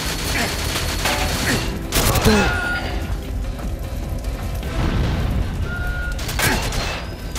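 Gunfire in GoldenEye 007 on the Wii, in the Severnaya Bunker level, comes as loud, dense bursts of shots and booming impacts. The volleys stay continuous, with sharp cracks standing out above the constant roar.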